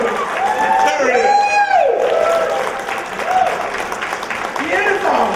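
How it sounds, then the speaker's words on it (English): Applause and cheering from a live audience at a horror fan show, a dense wash of clapping with whoops rising over it, while voices talk over the crowd throughout. "Give me a round of applause"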